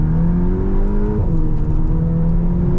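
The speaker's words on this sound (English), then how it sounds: "Second gear, so just then I wanted to stay in second gear because I was about to hit the brakes, and it automatically upshifted into third" VW T-Roc R engine under acceleration, a steady loud droning growl with rising pitch that briefly drops and resettles as the automatic gearbox upshifts from second to third, then continues climbing.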